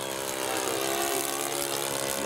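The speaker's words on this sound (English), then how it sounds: "It's a good little engine." A model Cessna 182 airplane's small engine runs steadily at a high, even pitch with a constant propeller buzz, loud and unbroken throughout.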